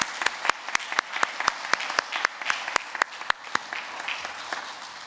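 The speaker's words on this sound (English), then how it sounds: "let's give this half one last big clap" A school audience at a Primary 7 final assembly gives a last round of clapping, with sharp, distinct, rhythmic claps that are fairly close and sparse rather than a dense roar, with a low murmur underneath.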